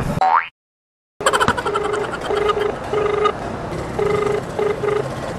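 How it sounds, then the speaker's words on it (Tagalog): Phone call being placed, a short tone, brief silence, then a series of repeated electronic ringback beeps in short bursts over street and engine noise. "Tawagan ko na nga lang to."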